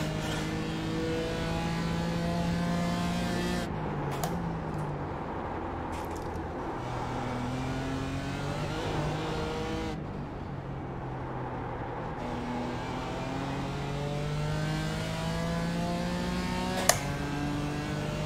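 GT4 race car engine in the iRacing sim during an IMSA race, sustained harmonic engine drone rising and falling through gear shifts as it overtakes, with several upshift breaks, steady and loud throughout.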